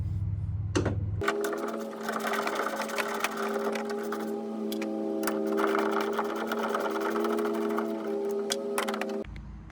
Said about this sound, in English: first step, taking 2 bolts out